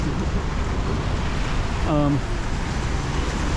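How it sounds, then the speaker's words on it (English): Rain falls on Calçada do Gaio, a street in Macau, as a continuous broad hiss throughout, with a brief faint voice-like sound in the middle. "but kind of getting caught up in a lot of rain right now"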